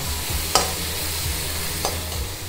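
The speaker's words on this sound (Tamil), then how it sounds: "தக்காளி நல்லா மேஷ் ஆகிடுத்து, நல்லா வதங்கிடுது" Tomato thokku with red chilli powder sautés in a pan, a close, steady sizzle with rhythmic stirring scrapes and two sharper spatula knocks, no talking.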